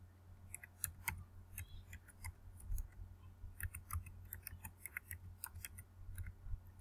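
Quiet keyboard typing as a website link is entered, with light, irregular key clicks in quick bursts over a low steady background hum.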